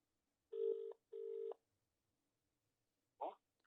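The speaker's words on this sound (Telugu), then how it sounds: "లాయర్ మధు శర్మ గారి ఫోన్ రింగ్ అవుతుంది" A phone call ringing through to lawyer Madhu Sharma, two clear back-to-back electronic ring tones, a pause, then a brief click-like burst as the line connects.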